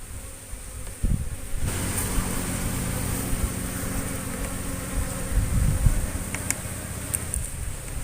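Dense, close buzzing of many Asian honeybees fighting at a hive, swarming continuously, with a low engine-like hum underneath and occasional sharper bursts.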